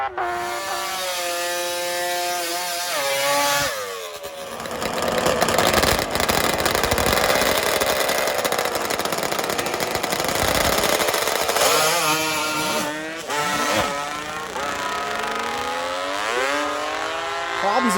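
A nitrous-fed two-stroke drag racing bike spins its tire hard at the racetrack, a loud raspy engine wail rising and falling in pitch, with a brief lull before another high-revving burst near the end.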